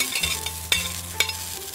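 Garlic and pepper stir-frying in a wok, with scraping stirs and two sharp utensil clinks over a low steady sizzle and a faint background hum.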